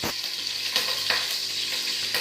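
Two green chillies sizzle in hot oil in a pan for mutton fry curry, a steady bright frying hiss with a few scraping stirs of the spoon, close up and without talk.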